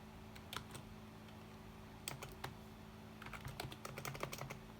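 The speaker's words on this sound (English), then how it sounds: "Let me just type this up." Quiet keystrokes on a computer keyboard come in short irregular bursts, a few isolated taps and then a faster flurry of clicks, close by over a faint steady hum.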